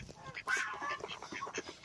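Ducks on a farm quack and call in short, close bursts, several overlapping honks in quick succession.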